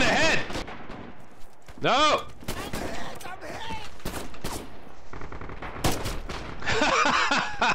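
Gunfire in the video game Red Orchestra 2, with bursts of shots spread across the clip, some sharp and close, while someone talks over parts of it.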